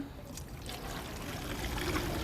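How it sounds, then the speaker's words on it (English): Car wash solution is poured into a foam cannon, making a close, steady liquid trickle that grows slightly fuller over two seconds. "we're gonna pour this right into here"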